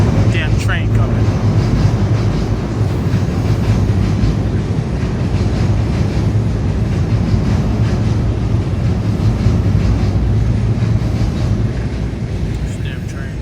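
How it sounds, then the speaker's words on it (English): A train rumbling past close by, a loud, steady low roar with rolling rail noise that holds for the whole stretch and only eases slightly at the end, while someone speaks under it. "Hold on, damn train coming."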